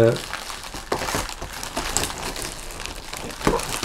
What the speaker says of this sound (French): Il faut découper tout un tas de plastique sans éclater la fléchette.